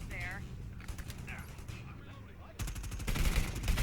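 Rapid bursts of gunfire in the video game Predator: Hunting Grounds, a dense fusillade that swells louder toward the end, mixed with game sounds and a voice talking over it.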